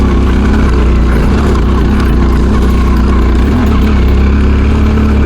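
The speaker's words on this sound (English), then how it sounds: "This bike does these hills so bloody easy." An adventure motorcycle engine drones steadily while climbing rocky hills on an autumn trail ride, a loud, continuous low rumble close by with rough, unbroken texture throughout and no talking.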